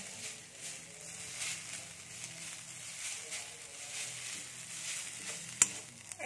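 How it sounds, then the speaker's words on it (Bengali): Coconut being stirred and fried in a pan with ginger and garlic, a soft, continuous sizzle at low level with gentle stirring scrapes, a single sharp click near the end, and no talk. "নারকেলটা এর সাথে একটু নেড়ে নিচ্ছি।"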